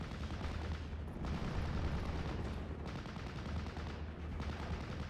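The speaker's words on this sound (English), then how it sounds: "Nebelwerfer barrage coming on in" A Nebelwerfer rocket barrage in a World War II strategy game, a dense continuous roar of rapid firing and explosions rumbling steadily without pause, loud and close.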